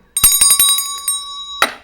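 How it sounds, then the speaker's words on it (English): A commemorative Halloween bell rings in a quick burst of about five clear, bright metallic strikes, followed by one more ring near the end, close and loud with no talking. "That's my commemorative Halloween bell."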